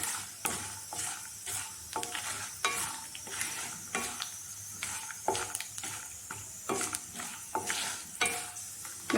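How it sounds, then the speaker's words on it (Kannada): Peanuts frying in a pan, sizzling steadily while a utensil stirs them in repeated scraping strokes, close and fairly quiet, with no talking. "ಇದು ಸ್ವಲ್ಪ ಚೆನ್ನಾಗಿ ಫ್ರೈ ಆಗಲಿ."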